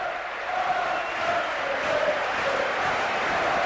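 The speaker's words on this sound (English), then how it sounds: "clap the travelling fans who've come all the way down to see them this afternoon" A large stadium crowd at a Chelsea versus Liverpool football match keeps up a steady, distant roar with scattered clapping and cheering as travelling fans are applauded.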